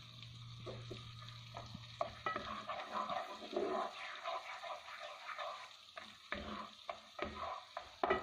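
About two tablespoons of butter melt with a tablespoon of oil in a pan, giving a soft, steady sizzle with scattered stirring scrapes and light clicks, close and fairly quiet, with no talking.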